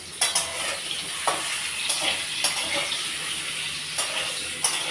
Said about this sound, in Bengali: তো দেখুন আমি ডিম রান্না করছি, ডিমের কারি করছি।